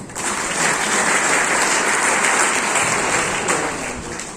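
An audience bursts into applause, a dense, loud wash of clapping that swells quickly, holds for a few seconds and then begins to fade.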